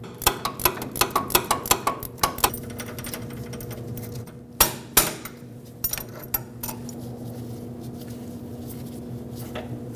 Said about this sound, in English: I'm going to take my tool off so I can just spin this freely by hand